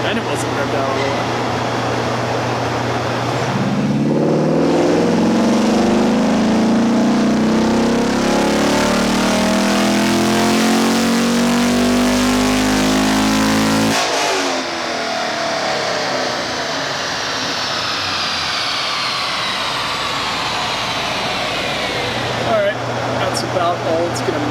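A Corvette Z06 engine on a tuning run revs hard and climbs steadily in pitch for about ten seconds, then cuts off abruptly and settles into a loud fan-like whoosh with a low idle returning near the end; voices speak briefly.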